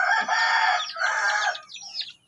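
A Shamo rooster, a heritage chicken breed, crows loudly and close, one long strained call breaking into shorter rough notes at the end.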